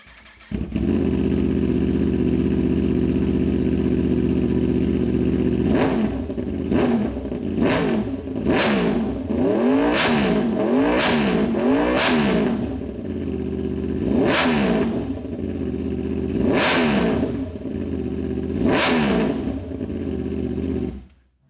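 A Yamaha R1 sport motorcycle with stock exhaust idles steadily, then revs up in a series of sharp throttle blips, each rising and falling, loud and close with no talking.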